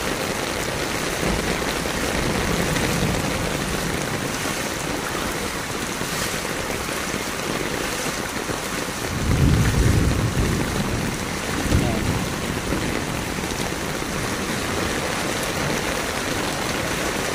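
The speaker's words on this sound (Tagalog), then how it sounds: "Ulan, ayaw magpaawat." Heavy rain pours over a flooded street on Aldrin St in Moonwalk, a loud, unbroken wash of noise with swells of churning water rising briefly around the middle.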